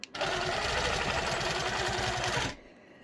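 A short, loud burst of sewing machine stitching on a quilt, a close rapid mechanical whir that starts suddenly and cuts off after about two and a half seconds, leaving quiet room tone.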